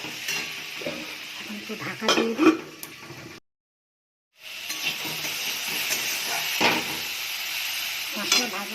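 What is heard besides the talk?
spices frying and being stirred in a pan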